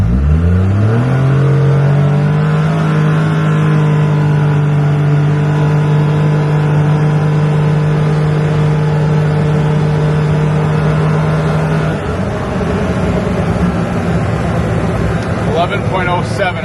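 A Polaris Ranger 1500 on a level 1 91-octane ECM and TCM flash tune accelerates hard, its engine note climbing steadily then holding a loud, sustained drone for about ten seconds before easing off.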